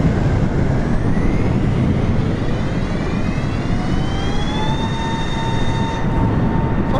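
Airplane engine run up to full power in Microsoft Flight Simulator while flying over the sea in a storm with the aircraft icing up: a loud, steady roaring drone with whining tones that climb in pitch throughout.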